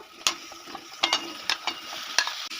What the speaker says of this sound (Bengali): এবার কয়েক মিনিট সময় নিয়ে আমি বেগুন ও আলু পেঁয়াজের সঙ্গে একটু ভাজা ভাজা করে নেব